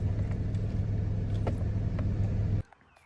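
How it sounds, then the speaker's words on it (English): A Nissan Frontier truck engine idles after an alternator replacement, a steady close low rumble that cuts off abruptly near the end, leaving near silence. "The truck's running."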